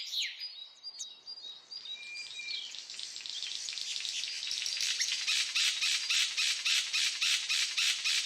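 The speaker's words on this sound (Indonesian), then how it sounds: "Lapisan kanopi atas dipenuhi suara burung beragam ukuran dan warna" Birds call in the upper forest canopy in Papua, Indonesia, with a few clear whistled notes early on and then a dense rhythmic chorus of high buzzing and chirping pulses that grows fuller and louder.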